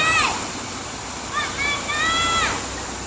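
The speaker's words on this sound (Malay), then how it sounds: "Ni air sungai ditahan, dimasukkan dalam kolam. Jadi ini air mengalir ni." River water held back and channelled into a bathing pool at Ulu Bendul in Negeri Sembilan rushes and splashes steadily close by, with bird calls and whistle-like chirps rising over the flow.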